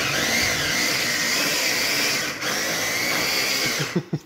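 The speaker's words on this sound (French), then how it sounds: "dans ma vie, je crois que j'ai jamais vu un Big Mac se faire hacher" A Big Mac burger being minced in an electric food chopper: a steady, loud motorized whirring grind running throughout, briefly dipping midway, then cutting off into a few soft knocks at the end.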